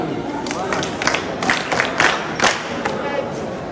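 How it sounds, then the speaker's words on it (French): Children visiting the presidency on an orphanage outing applaud together, a busy, crowded clatter of claps with a few louder bursts, mixed with murmuring voices. "Bien, on applaudit pour lui."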